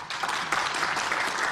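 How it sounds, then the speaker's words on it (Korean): A burst of applause rises from lawmakers' seats in the National Assembly during a floor speech, a dense, even wash of clapping held at steady volume throughout. "의원석에서 박수가 터져나옵니다."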